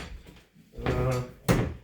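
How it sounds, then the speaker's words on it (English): A reskinned door pushed shut: a soft scrape as it swings, then a firm thunk as it closes, close and alone. "boom, the door stays shut"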